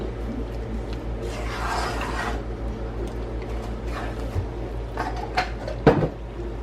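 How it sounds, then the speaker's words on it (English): A pot clatters and scrapes as thick fudge mixture is stirred steadily while boiling, with a constant bubbling hiss underneath and a few sharp metallic knocks near the end. "now we're boiling really good, so we want to continue to boil this for 5 minutes"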